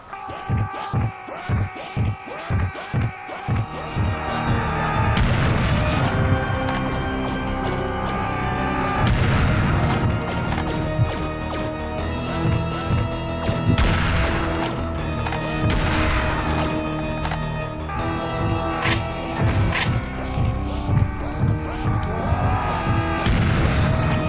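Rocket launcher fire in the first-person shooter Serious Sam: The Second Encounter, with repeated loud booming blasts and throbbing explosions layered over a continuous droning game soundtrack, dense and close throughout with no talking.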